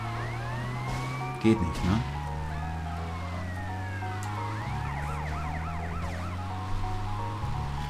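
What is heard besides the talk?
police car siren in the video game GTA Vice City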